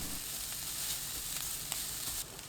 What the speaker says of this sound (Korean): 팬에 올리브유 3큰술, 당근 넣고 센 불로 3분 볶아주세요